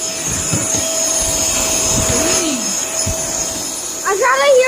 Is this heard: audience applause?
no